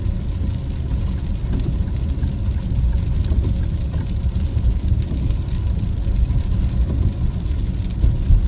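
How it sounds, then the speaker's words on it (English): Rain falls steadily on a car driving along a city boulevard, a constant wash of patter mixed with road and engine rumble, even and continuous throughout with no voices. "Like it's gonna be an all-day rain."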